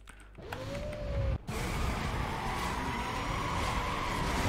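A Lamborghini in Need for Speed Most Wanted, with a rising engine note and a brief cut before the car settles into a steady, loud drone of engine and road noise.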